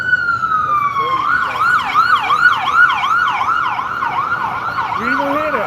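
An emergency vehicle siren wails and yelps in a rapid repeating pattern as it passes along a city street, loud and close over traffic noise.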